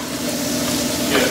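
Peppers hiss and sizzle in a hot pan as they go in, a steady loud frying crackle with a swell of stirring toward the end, a voice faintly present.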